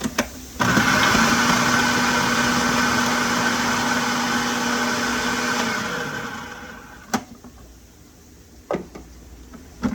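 A small kitchen chopper's motor whirs steadily for about five seconds while chopping peppers, then winds down, followed by a few light clicks and knocks.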